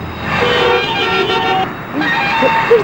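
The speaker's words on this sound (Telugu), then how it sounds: "ఇదేం ట్రాఫిక్, ఇదేం రోడ్లు" Busy road traffic around a car, with engine and road noise throughout and several short horn toots sounding near and loud.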